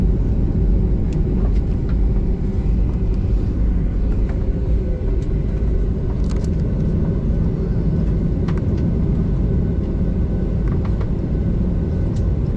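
Air India Express airliner taxiing slowly along the runway at Calicut airport, a steady loud engine rumble and whine that runs continuously without a break, close by and with no voices.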